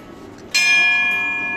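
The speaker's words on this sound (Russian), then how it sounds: "Звонят в колокольчик." A small bell rung to greet arriving guests at the Constance Ephelia resort in Mahé, Seychelles: one bright, clear strike that rings on and slowly fades, loud and close after faint background murmur.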